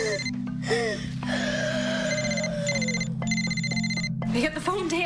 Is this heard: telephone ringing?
yes